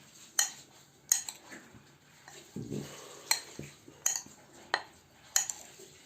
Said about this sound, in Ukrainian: Все перемішаю быстренько.